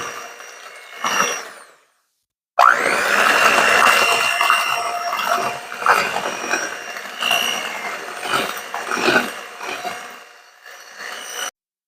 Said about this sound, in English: let's give this a whirl with the mixer